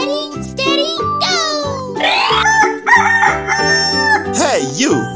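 A cartoon chicken crows loudly in an animal-themed kids' game, with bright rising and falling calls layered over cheerful music and playful voice-like sounds for several seconds.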